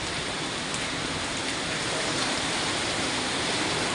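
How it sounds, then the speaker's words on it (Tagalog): Heavy rain pouring in a dense, constant hiss, loud and unbroken, with no other sounds standing out. "Lakas ng ulan guys."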